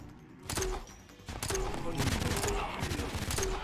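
Rapid bursts of video-game gunfire from Zora's homing gun in Terraria's Calamity Mod, fairly faint and repeating under a busy backdrop of game effects.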